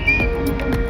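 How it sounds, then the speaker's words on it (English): Vivint security camera at a house's front door giving a whistle alert, a thin steady high tone over a busy background of outdoor noise and faint chatter, up close and fairly loud. "Well, that is the sound of the security system, VIVINT, keeping you safe."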